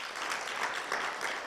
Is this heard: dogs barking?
no